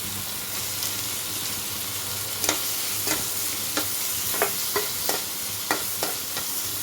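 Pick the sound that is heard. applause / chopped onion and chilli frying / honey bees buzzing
chopped onion and chilli frying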